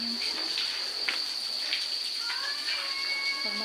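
Shower water runs steadily in a beach resort bathroom, a constant hiss with a few scattered drip-like splashes throughout.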